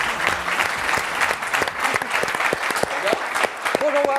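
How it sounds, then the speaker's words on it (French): A television studio audience applauds to welcome two guests onto the set, steady lively clapping with distinct close claps, and a voice briefly heard toward the end. "Vous pouvez les accueillir sur ce plateau et les applaudir."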